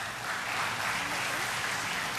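An audience at a medical college convocation ceremony applauds the graduates' parents, a dense, even wash of clapping that holds steady from start to finish with no talk over it.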